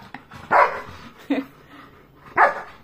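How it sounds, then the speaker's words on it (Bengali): A pet dog searching through a pillow lets out three sharp, close barks spaced about a second apart, with brief quiet between them. "ডগি হয়ে এটাও খুঁজছে, দেখ না কিরকম বালিশের মধ্যে।"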